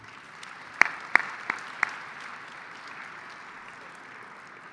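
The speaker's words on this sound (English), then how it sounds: "another round of applause." A conference audience applauds, a soft, sustained patter of many hands with a few sharp, close claps standing out near the start before the clapping settles to a quieter steady wash.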